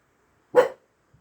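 A puppy named Ollie Bear lets out one sharp, short bark indoors, standing alone in near silence, followed by a tiny faint noise a moment later.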